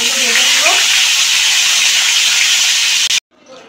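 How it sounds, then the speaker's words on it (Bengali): Brinjal frying in oil gives a loud, close, continuous hiss that stops abruptly near the end, leaving a quieter tail. "এগুলো ভেজে নেব"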